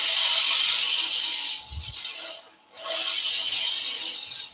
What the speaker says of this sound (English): I'll do that first of all with a pull cut from the back bowl gouge. Just skim that surface.